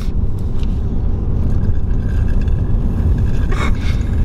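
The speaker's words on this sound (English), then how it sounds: "Abby, there's a car" A car passes on the road, a loud continuous engine and tire rumble heard up close, with a faint rising whoosh near the end.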